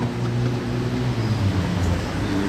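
Ferrari V6 sports car, seen in Monaco, passing with a steady low engine rumble at moderate volume, fairly subdued rather than loud, blended with surrounding road noise and no talk.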